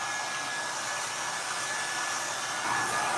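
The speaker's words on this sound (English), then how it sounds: "then I put my dryer using this area." A hair dryer blows in a steady, loud, continuous whoosh while drying hair, heard close up with no voices throughout.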